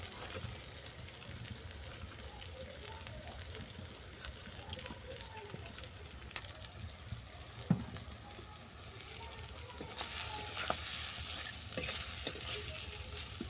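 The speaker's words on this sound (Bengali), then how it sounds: "চিঁড়েটাকে একটু ভাজা ভাজা করে নেব।" Soaked flattened rice tossed with fried potatoes cooks in a pan, giving a quiet continuous sizzle with repeated scraping stirs and occasional sharp clinks of the spoon against the pan.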